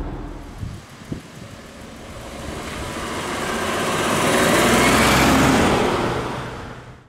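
A 2006 Audi A6 Avant with 213,000 miles pulling away, a few soft knocks then a smooth engine and road rumble swelling with wind noise and easing off, heard from inside the car.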